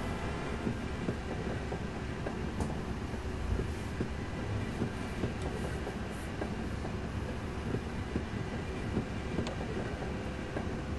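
Steady rumble and rhythmic clatter of a tram rolling along rails in the game Half-Life, continuous throughout with occasional faint squeaks and clicks, no voices.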